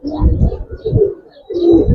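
Giribaz pigeons at a pigeon farm give soft, throaty coos in a few quick close bursts, with faint chirps in the background.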